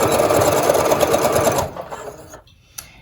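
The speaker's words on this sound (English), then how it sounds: "we're going to sew forward and back a couple of times to hold that elastic in place" Sewing machine stitching forward and back over elastic while making a kids' fabric face mask, a loud steady mechanical whir that stops after about a second and a half, followed by a few quieter clicks and near silence.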